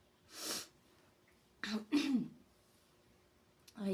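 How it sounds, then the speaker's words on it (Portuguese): A person with nodules in the lungs coughs close by: a short burst, then a couple of harsher coughs in quick succession, and one more starting at the very end, with quiet room tone between them. "Eu tô até tossindo, tá vendo, gente?"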